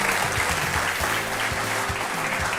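A studio audience on a courtroom-style Hindi talk show bursts into loud, sustained applause, a dense steady clatter of many hands close by with no talk.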